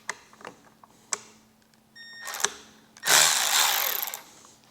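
A power screwdriver with a Torx T20 bit backs screws out of a Harley-Davidson Electra Glide. A few small clicks and a beep come first, then a loud, close whir of about a second and a half.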